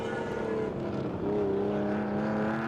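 A Humpy Holden 48-215 historic sports sedan with a 3.3 litre six-cylinder engine drones past at a race circuit, its engine note rising and sliding in pitch as it accelerates, fairly loud and steady.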